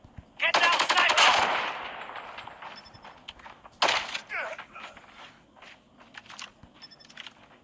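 In Call of Duty Mobile, an RPD machine gun fitted with a cooling compressor barrel fires a long rapid burst, followed by a second shorter burst and scattered shots, with in-game voices calling out faintly underneath.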